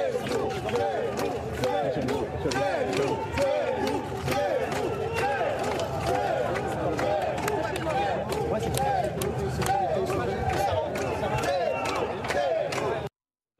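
A crowd at Éric Zemmour's arrival at the Cathédrale de la Major gives off a dense, unbroken roar of mixed voices, with sharp high bursts scattered throughout that may be whistles and jeers, holding steady for about thirteen seconds.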